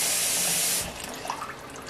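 Tap water pours steadily and loudly into a sink or pot while preparing for canning in quart jars, then cuts to a softer trickle and splashing.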